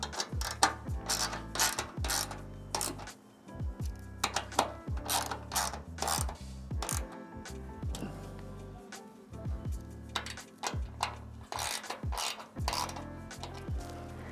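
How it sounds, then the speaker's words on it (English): A 3/8 ratchet clicks rapidly in repeated close bursts while tightening bolts on a gear panel in a Revel van, the sharp pawl ticks coming in quick strokes separated by brief pauses. "I'm gonna grab my 3/8 again on my ratchet here and go ahead and tighten these up"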